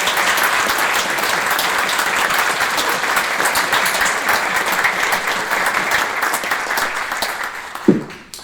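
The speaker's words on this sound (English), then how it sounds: "I want to ask everyone to give them a round of applause." An audience applauding after speakers at an evening speaker-series session, a steady burst of dense clapping that tapers off near the end.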